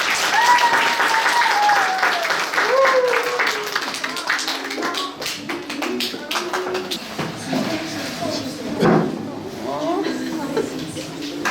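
A crowd at a kindergarten graduation ceremony claps to welcome the graduating children, sustained applause under a voice speaking or singing over it.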